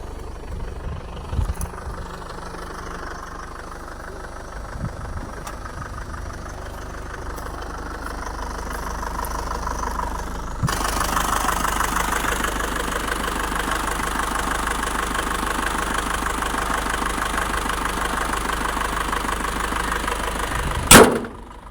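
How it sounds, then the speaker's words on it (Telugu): A Chevrolet Tavera's engine idles with a steady, close rumble that grows louder partway through and keeps running evenly. A short, sharp burst of noise comes near the end. "ఒకసారి ఇంజిన్ నాయిస్ కూడా ఒకసారి చూడండి ఎలా ఉందో"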